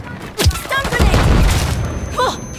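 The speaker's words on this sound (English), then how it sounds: "Stun grenade." A stun grenade goes off in Call of Duty: Modern Warfare 3 with a loud, close burst and a rumbling boom, followed by a ringing hiss that fades over a couple of seconds.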